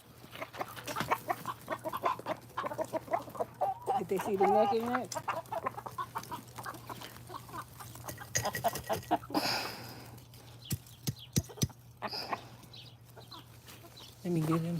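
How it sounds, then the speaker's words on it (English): Chickens cluck and squawk at feeding time, close and intermittent, with people talking over and between the bird calls. "we about to feed the chickens"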